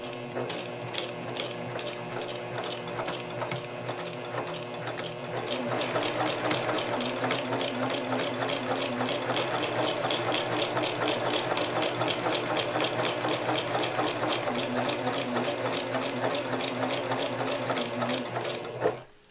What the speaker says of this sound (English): We're going to be sewing directly on top of the chalk line.